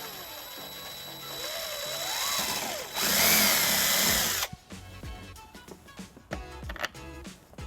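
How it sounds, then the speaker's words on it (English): A power drill whines loudly, its pitch rising and falling as it bores a 3/16-inch hole in a 2015 Kia Sorento bumper, then cuts out into softer clicks and handling noises. "Using the bracket as a template, we're going to drill a 3/16 hole."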